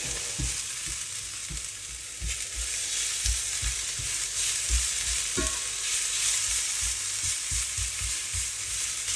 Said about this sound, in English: So garlic in, just swish it about a bit to get fragrant